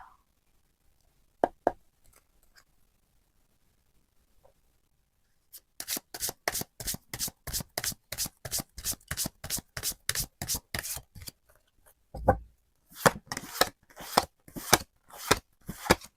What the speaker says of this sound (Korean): 카드 한번 뽑아보도록 하겠습니다